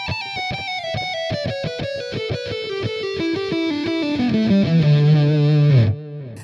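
Distorted electric guitar plays a lick, a rapid run of single notes descending steadily in pitch and ending on a held low note that cuts off, close and loud.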